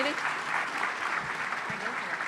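Dense, steady applause from an awards-ceremony crowd honouring non-profits at the Long Island Imagine Awards, evenly sustained throughout with a faint murmur of voices mixed in.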